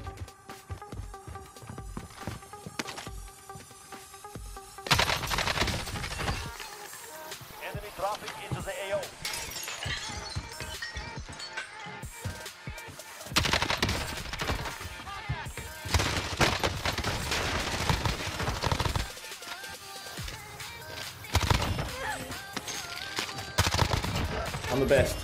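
Gunfire in Call of Duty: Modern Warfare Warzone: rapid automatic bursts and sharp shots in several clusters with brief pauses between, loud and close, mixed with game effects and occasional talk.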